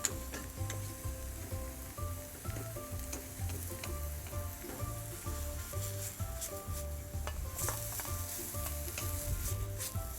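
Shallots and garlic sizzle steadily in a pan, a continuous close frying crackle with occasional light scrapes of stirring and utensil clinks throughout.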